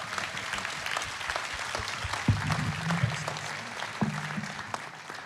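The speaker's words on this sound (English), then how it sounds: "a big round of applause for our gents on stage" A church congregation claps for the men on stage at a Father's Day gathering, moderately loud and steady, with a low hum and a couple of knocks underneath.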